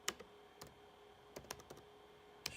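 Quiet, close computer keyboard typing of a command: a few scattered, light key clicks with short pauses between them, no voices.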